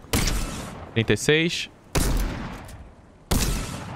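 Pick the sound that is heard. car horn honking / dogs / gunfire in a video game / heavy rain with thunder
gunfire in a video game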